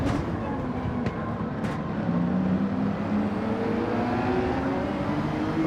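McLaren and Porsche racing cars in a racing video game, a continuous loud engine drone with steady droning tones and a couple of brief sharp clicks, no voices.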